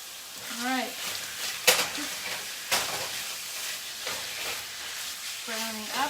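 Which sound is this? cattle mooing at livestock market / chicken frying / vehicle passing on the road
chicken frying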